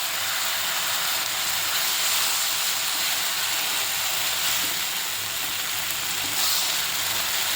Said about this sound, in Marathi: यात 2 छोट्या टोमॅटोची प्युरी टाकते